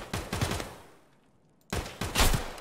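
Loud automatic gunfire from the Escape From Tarkov video game, two dense bursts of rapid shots split by a brief quiet gap, heard alone without voices.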